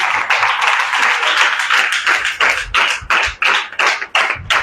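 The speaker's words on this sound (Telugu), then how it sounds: "కొట్టు, చప్పట్లు గట్టిగా కొట్టు." A church congregation claps loudly and steadily in unison during a Sunday service, with strong rhythmic beats close by and the clapping growing sharper and more spaced toward the end.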